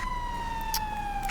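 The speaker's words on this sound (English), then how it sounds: "Wish that fire truck would turn off its siren." A wailing fire truck siren in the video game GTA V with the LSPDFR mod, a loud steady tone sounding on its own without talk.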